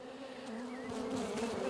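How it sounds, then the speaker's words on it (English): Close, steady buzzing of many bees on a beehive frame, a droning hum with individual insects passing nearby. "So this next frame has a lot more bees on it."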